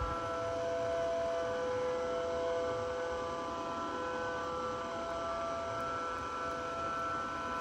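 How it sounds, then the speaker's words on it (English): A steady, droning siren in the Roblox game Twisted wails continuously at moderate distance, its tones holding level over a low hum. "I'm hearing sirens."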